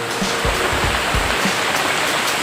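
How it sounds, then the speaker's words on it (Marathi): Knee-deep floodwater flows through a Mumbai street during heavy rains, a loud continuous rushing wash close by with a few low splashes, no voices heard. "चारही बाजूनी पाणी येतं"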